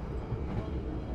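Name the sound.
Kertanegara passenger train running at high speed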